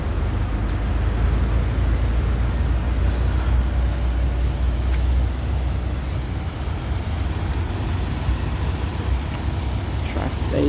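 Heavy vehicles, including Kenworth and Freightliner semi trucks, rumble past in morning traffic by a Walmart parking lot, a steady low drone that continues throughout with no distinct pass-bys standing out.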